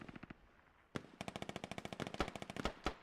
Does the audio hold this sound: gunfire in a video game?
yes